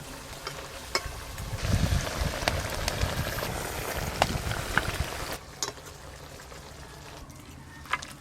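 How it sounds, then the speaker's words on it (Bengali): Dense bubbling and sizzling from a pot of fish curry cooking on the stove, close and steady, with a few sharp clicks, then quieter near the end. "বেশিক্ষণ ফুটাবো নি এমনি একটু ফুটে গেলেই ঢেলে নেবো"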